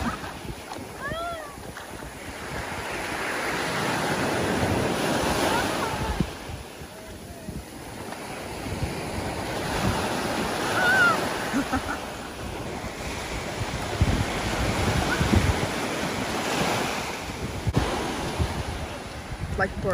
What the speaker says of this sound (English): Be careful how the waves are so big.